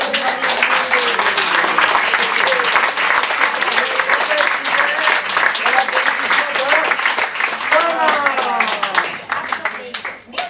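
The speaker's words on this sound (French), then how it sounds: "Applaudissez." Enthusiastic crowd applause at a stage show rolls on continuously, with music and voices mixed underneath before the clapping starts to fade at the end.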